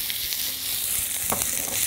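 Onions sautéing in virgin olive oil in a pan, a steady soft sizzle running throughout with a few brief stirring clicks, close and fairly loud, no talking.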